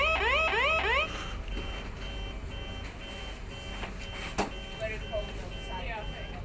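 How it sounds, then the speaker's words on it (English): A ship's emergency alarm wails aboard a polar research vessel, a loud rising-and-falling siren sweep for about a second, then cutting to a busy background with faint tonal beeps and murmuring voices. "Emergency alarm wails throughout the ship."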